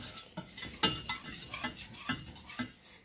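Spices such as garlic powder, ground cumin and dried oregano being stirred into a thick mixture in a pan, soft rhythmic scraping strokes with faint sizzling, close and fairly quiet.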